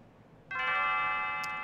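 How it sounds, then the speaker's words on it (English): A bell rings in the Chrono Trigger video game: a single bright, harmonically rich chime strikes after a short quiet pause and then rings on with a long, steady sustain. "And then the bell should ring."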